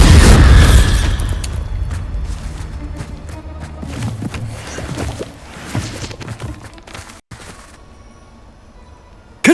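Bombarda and Confringo spell explosions in Hogwarts Legacy, a loud booming blast at the start followed by a dense run of crackling bursts and pops that fades, then one more sharp hit at the very end.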